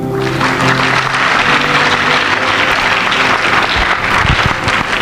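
A church congregation applauding the Lord, a loud, sustained wash of clapping from many hands that runs steadily for several seconds.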